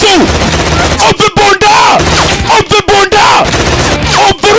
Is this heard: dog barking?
no